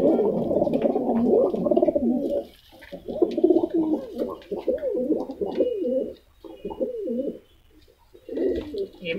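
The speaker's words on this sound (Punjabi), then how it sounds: "ਇਹ ਨੇ ਵੀਰ ਦੇ ਕਬੂਤਰ, ਇਹ ਵੀ ਤੁਹਾਨੂੰ ਦਿਖਾਉਂਦੇ ਹਾਂ ਜੀ ਅੱਗੇ" Pigeons in a loft coo loudly and close by in repeated throaty, rolling phrases, separated by short pauses, with some faint chirps behind them.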